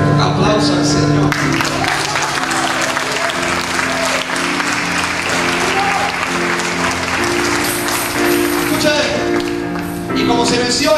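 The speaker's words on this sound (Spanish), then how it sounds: "Aplausos al Señor." A church congregation applauds steadily and loudly, dense clapping filling the room while music plays beneath.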